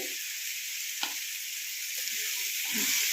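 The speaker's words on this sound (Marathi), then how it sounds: "छान असे सगळीकडून परतवून घ्यायचं बटाट्याला." Potatoes sautéing in a pan give off a steady, close hiss of frying oil, with a few faint stirring scrapes and a light clink near the start.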